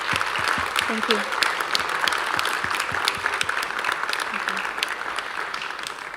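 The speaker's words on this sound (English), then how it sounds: "I think we can give them a round of applause for the amazing job they've been doing" Sustained audience applause at a summer space festival event, steady and fairly loud throughout, with a voice briefly speaking over it.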